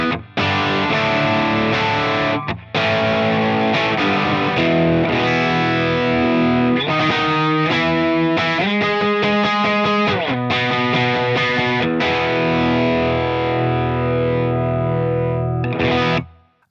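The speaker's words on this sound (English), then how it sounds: "the JHS Moonshine, which is a TS-808 tube screamer kind of sound" Electric guitar driven through a JHS Moonshine overdrive with a TS-808 Tube Screamer character, loud and close, playing sustained chords and quick melodic runs until a fade near the end.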